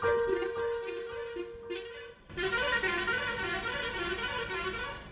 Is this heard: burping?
no